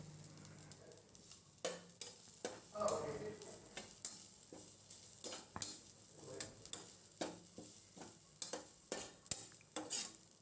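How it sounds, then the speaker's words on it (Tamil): Grated coconut roasting in ghee in a pan on medium flame, stirred with a spoon that taps and scrapes the metal in a steady, repeated rhythm over a soft sizzle, close but quiet. "தேங்காய் நெய்யில் நல்லா வறுபடணும்."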